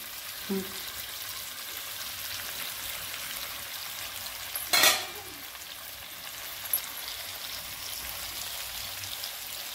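Fish pieces frying in a pan, a steady soft sizzle with crackling spatter running throughout, joined by a sharp clatter around the middle and a few faint knocks.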